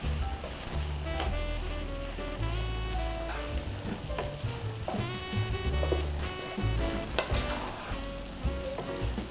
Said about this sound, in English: what we're going to do is just dump the whole thing in, just like that, and give it a good mix